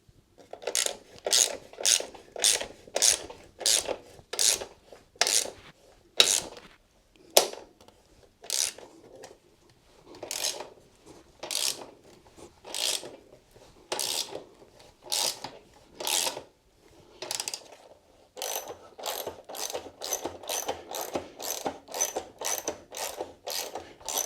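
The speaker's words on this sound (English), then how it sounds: "let's do those bolts up" A ratchet tightens the bolts on a new rear rack fitted to a Royal Enfield Classic 350 motorcycle, making close, loud bursts of rapid clicking that repeat in steady strokes with short pauses, heard alone with no talk.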